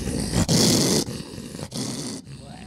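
A man imitates a dog's growl in several short, rough bursts, loud and close, with brief pauses between them.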